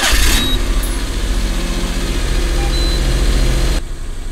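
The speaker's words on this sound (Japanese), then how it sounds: "じゃあですねこちらでエンジンをつけてみましょう。" A Daihatsu Hijet Cargo van's engine turns over with a brief loud burst and settles into a steady, low, rumbling idle heard up close. The sound drops abruptly near the end.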